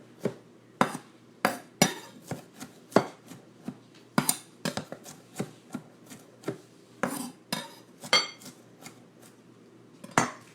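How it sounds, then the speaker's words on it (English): A knife roughly chops greens on a cutting board for a quiche, a series of sharp, close thunks at an uneven rhythm with brief gaps, no voices over them. "So, whatever greens you like are super yummy in here. Just roughly chop them."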